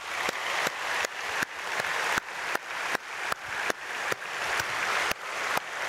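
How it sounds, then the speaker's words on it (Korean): A church congregation applauds its Sunday-school teachers during a dawn prayer service, a steady sustained clapping from many hands that swells and fades in a few waves, with no voices over it. "우리 교사 선생님들을 위해서 박수하겠습니다"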